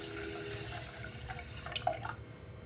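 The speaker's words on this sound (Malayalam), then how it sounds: "മൊത്തം 3 കപ്പ് വെള്ളമാണ് നമ്മൾ എടുത്തിട്ടുള്ളത്. അപ്പം ഞാനത് കറക്റ്റ് ഇതിലേക്ക് ഒഴിക്കുകയാണ്." Water is poured from a cup into a pressure cooker holding rice for pongal, a faint, steady splashing trickle that swells briefly near the end, quiet and close with no talking.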